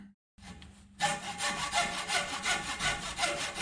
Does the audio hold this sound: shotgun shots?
no